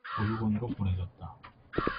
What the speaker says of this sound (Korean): 그럼 까마귀가 우는 이유가 있을 거라고.